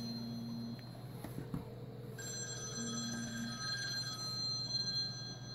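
A telephone rings in a home kitchen in repeated electronic bursts, moderately loud and close, with no one talking.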